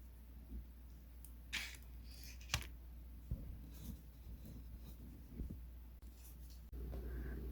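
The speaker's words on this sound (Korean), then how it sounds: "쏙 들어가는 부분하고 둥근 부분을 가위로 잘라주세요." Scissors snipping through fabric while cutting out pieces for a small horse plush keychain, a few short, quiet, separate cuts over a low steady background hum.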